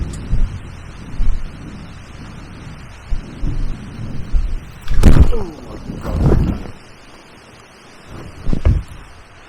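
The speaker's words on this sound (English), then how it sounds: "So if you can hear that, that's the trees behind me." Strong wind gusts through trees on a riverbank by the River Avon, roaring in uneven bursts. Heavy buffeting thumps hit close to the microphone.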